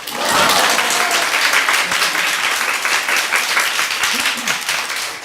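A church congregation at a revival meeting breaks into loud, sustained applause, with some voices audible within the clapping.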